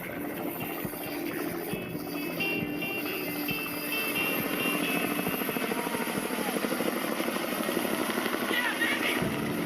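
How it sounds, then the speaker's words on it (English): A helicopter approaches amid steady broadband rotor and engine roar that grows slightly louder and more pulsing toward the end, sustained throughout without speech. "My helicopter is coming."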